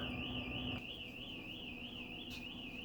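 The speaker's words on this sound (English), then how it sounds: "The emergency exits are wired so when you open it, the alarm goes off." An apartment building's emergency exit door alarm sounds, a continuous warbling electronic siren that rises and falls steadily, heard from some distance indoors and fairly faint.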